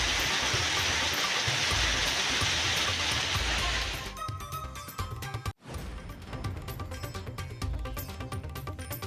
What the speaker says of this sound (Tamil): அடித்து துவைத்த மழையால் ஆறு போல மாறிய சாலைகள்